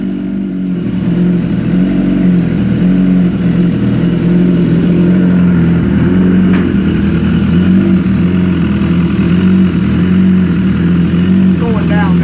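A 2017 BMW S1000RR motorcycle runs on a dyno at a performance shop, its engine a loud, steady, close drone that holds a constant pitch throughout.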